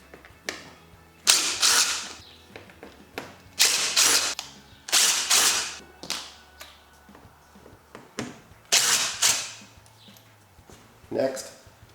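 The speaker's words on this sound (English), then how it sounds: "First, remove the screws." Screws being removed from the roof cap of a pop-up camper with a power driver: several loud, close bursts of whirring and ratcheting separated by short pauses.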